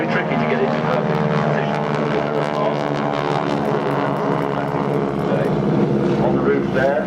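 Breitling Wingwalkers propeller biplane at the Farnborough Airshow 2012 drones loudly and steadily overhead as it flies past, while a commentator talks over the engine.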